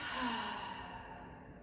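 A single big, deep exhale during a beginner yoga breathing exercise, close and steady, fading gradually over under two seconds with no talk.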